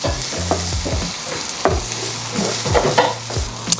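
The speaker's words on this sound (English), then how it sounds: "Add 1 chopped onion. So you want the onions to cook until they're quite translucent." A chopped onion sizzles loudly in a pan while being stirred, with repeated close scraping strokes and clinks over a constant frying hiss.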